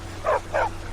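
In the Skyrim video game, a dog gives two quick, close barks in succession over a faint steady background hum.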